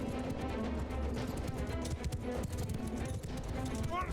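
Horse hooves gallop in the Mount & Blade II: Bannerlord video game, rapid clip-clopping amid battle noise, with people talking over it.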